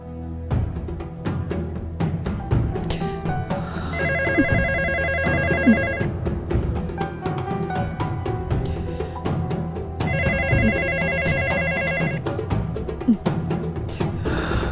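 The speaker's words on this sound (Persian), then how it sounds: "بلند شو، حتما دینی زنگ زده" A telephone bell rings in two separate bursts of repeated trills, clearly audible over a busy background of music and ambient sound in a drama scene.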